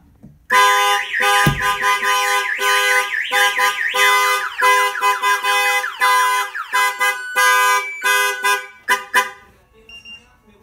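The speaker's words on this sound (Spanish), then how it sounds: "Aquí le voy a abrir la puerta y se va a disparar la alarma." A loud 2017 Nissan Titan car alarm, set off by opening the door, blares close by, cycling through rapid warbling tones, repeated chirps and steady beeps before cutting off abruptly.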